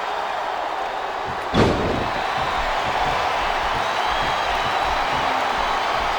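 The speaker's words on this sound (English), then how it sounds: "It sounds like this capacity crowd has something on their minds, Taz." A steady roar of a large arena crowd in the video game WWE SmackDown vs. Raw 2007, broad and continuous, with a sharp slam or thud early on that briefly rises above the din.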